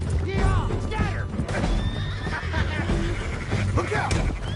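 A horse neighs and whinnies loudly in a PS4 video game, several shrill rising calls over a busy game soundscape with hoofbeats and dense background noise.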